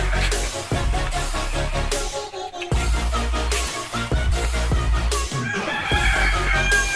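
Breeder roosters crowing repeatedly at close range, overlapping calls with clucking fowl around them, loud and continuous throughout.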